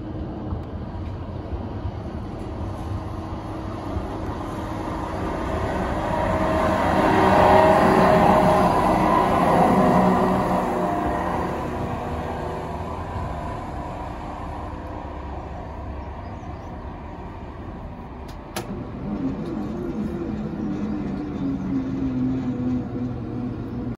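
A train passes a level crossing near PN24, laboring as it tries to accelerate; a rumbling drone swells as it draws near, then fades, with a brief sharp squeal late on and no voices.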